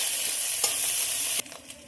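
Chopped ginger and green chili sizzling in ghee in a pan, a loud steady hiss with a couple of stirring scrapes before the sizzle suddenly drops quieter near the end.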